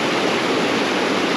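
A small waterfall on a mountain stream gives off a steady, even rush of falling water, continuous and fairly loud throughout with no voices.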